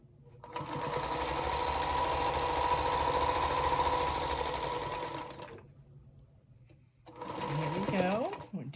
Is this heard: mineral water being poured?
no